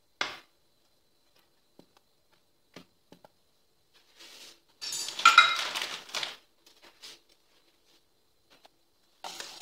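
A cheesecake batter of cheese and milk is mixed in a bowl, with sparse clinks of a utensil against the bowl and a busier burst of stirring and scraping in the middle.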